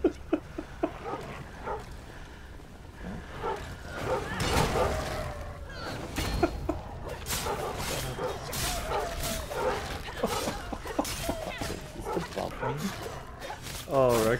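Video game dogs from Enshrouded barking, yipping and whimpering in a swarm, overlapping bursts throughout under excited players talking over them.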